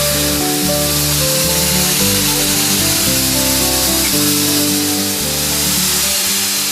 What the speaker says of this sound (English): using a garnet abrasive to sandblast off all of that corrosion and take it back down to white metal